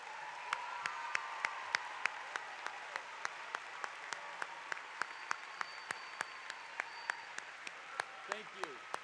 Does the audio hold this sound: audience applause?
yes